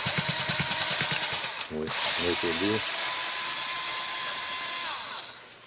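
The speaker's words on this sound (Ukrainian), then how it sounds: "І так, гвинти я, друзі, відкрутив." Power tool unscrewing screws on a car wash compressor during a teardown, a loud steady whine with short ratcheting bursts midway, then the motor winding down at the end.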